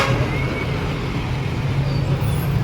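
Steady low rumble of a Ceres bus on the road, with continuous engine drone and road noise filling the cabin, no voices rising above the hum.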